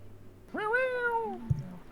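A cat lets out a single drawn-out meow, clear and close, followed by a brief thump, with a quiet room behind it.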